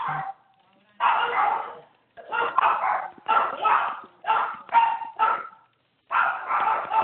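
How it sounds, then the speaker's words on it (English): Dogs bark in a rapid series of short bursts with brief pauses between, fairly close and loud, heard over a 911 emergency phone call, with no other sound around them. "I hear the dogs barking."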